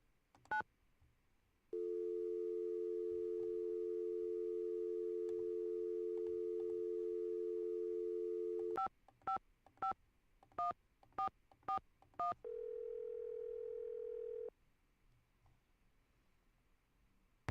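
Telephone in a Nancy Drew video game (Secret of the Scarlet Hand): a steady dial tone holds for several seconds, then a quick run of eight clear keypad beeps, followed by a shorter ringing tone, all close and loud with no talk.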